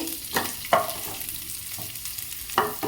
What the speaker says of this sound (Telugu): ఒక మీడియం సైజ్ ఆనియన్ని వేసుకొని, ఆనియన్ కాస్త లైట్ గోల్డెన్ బ్రౌన్ కలర్ వచ్చేంత వరకు ఫ్రై చేసుకోవాలండి